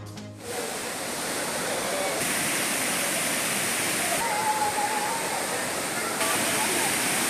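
Courtallam waterfall crowded with bathing tourists, heard as a loud, steady roar of falling water that fills the whole stretch with broad, unbroken rushing.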